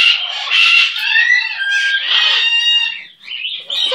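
A pet bird calls loudly and close by in a run of shrill, warbling, crow-like cries that last several seconds with only brief pauses.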